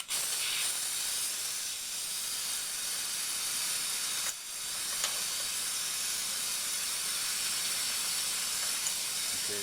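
A pneumatic brake bleeder hisses continuously on a motorcycle brake, a steady loud airy rush close by with a brief dip partway through and no talking.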